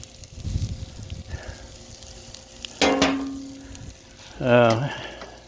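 Green beans sauté on a hot Blackstone griddle with a steady sizzle and hiss close by, broken up by scraping spatula strokes and clattering, and no one speaking.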